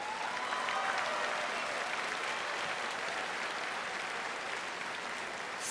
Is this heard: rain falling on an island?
no